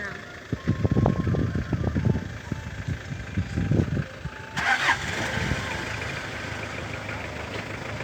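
A Japanese car engine revs in several loud, rough bursts over the first few seconds, then settles to a steadier rumble, with people talking throughout.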